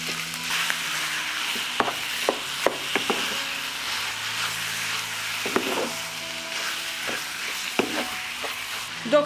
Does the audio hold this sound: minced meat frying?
yes